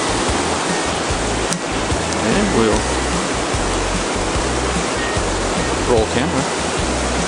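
A river rushes past rocks in a loud, constant wash of water close by, while someone speaks briefly over it.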